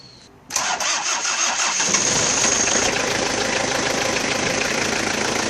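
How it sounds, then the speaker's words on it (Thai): A Toyota 2L II diesel engine cranks and catches, then settles into a loud, steady, rough diesel idle with a knocking rhythm, close by. "จากนั้นก็ไปทดสอบติดเครื่องยนต์นะครับ"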